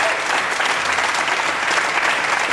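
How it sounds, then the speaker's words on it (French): Dense, steady applause from a television studio audience on a French game show, continuous and fairly loud throughout with no break. "Bravo, on les applaudit"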